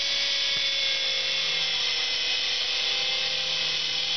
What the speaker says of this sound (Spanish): Tratando aquí de hacer un decolaje lo más realista posible, ya que se trata de un helicóptero de escala.